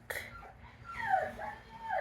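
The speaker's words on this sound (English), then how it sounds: "and that is my dog Bonnie" A dog whimpers faintly from a short distance, giving a few high, wavering whines with soft breathing between them, wanting to come outside.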